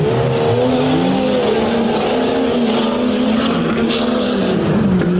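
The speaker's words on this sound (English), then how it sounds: "Graybeal in Twisted Metal, Hostetter in chaotic racing. Inside corner for Hostetter" Monster trucks race around a track at the Overdrive Monster Trucks Battle at Butler event in 2023, their loud engines roaring and revving continuously, with rising and falling pitch close by.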